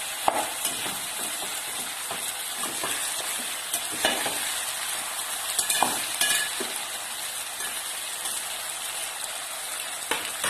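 Masala khichdi sizzles and fries in a pan while a spoon stirs it, making a constant crackling hiss with scraping taps throughout and no voices.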